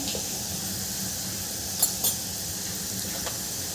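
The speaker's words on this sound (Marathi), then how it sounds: "आणि हे मसाले एक मिनटं दोन मिनटं छान परतून घ्यायचे आहे" Chili powder and goda masala being sautéed in oil for a bitter gourd curry give a soft, steady sizzle, with a couple of light metal clinks from stirring and no voices.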